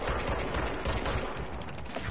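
Rapid gunfire from the video game Control, a dense continuous fusillade of shots, loud and close throughout.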